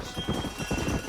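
Horses' hooves clip-clopping in Red Dead Redemption, a steady rhythmic patter of several hoof falls at a walking pace, close and moderately loud with no talk.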